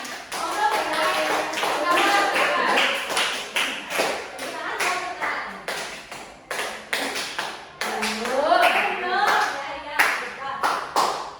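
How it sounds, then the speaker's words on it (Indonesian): A class of elementary schoolchildren claps hands in a classroom during a teaching session, rhythmic claps mixed with children's voices and an adult speaking over them throughout. "Tepuk tangan ya semuanya, tepuk tangan."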